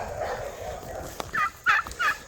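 Turkeys gobbling outdoors on an early-morning homestead, three quick rattling gobbles in the second half of the clip, moderately close over a soft background hiss.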